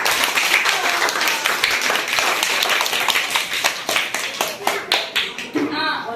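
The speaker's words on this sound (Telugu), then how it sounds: "వాళ్ళకు కూడా క్లాప్స్." A crowd claps steadily at an outdoor Independence Day celebration in a village school, dense rapid applause filling the whole stretch and tapering slightly near the end, with voices mixed in underneath.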